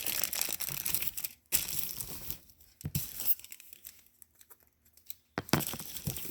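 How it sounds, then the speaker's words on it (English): Tin foil is folded and rolled by hand close up, bursts of crinkling and crumpling with short quiet gaps between them. "But you have to fold and roll your tin foil accordingly."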